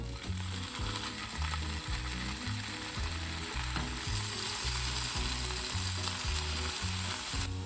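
Firm halloumi cheese slabs searing cut side down in a pan, a bright steady sizzle alongside a regular low mechanical rumbling pulse, close and constant.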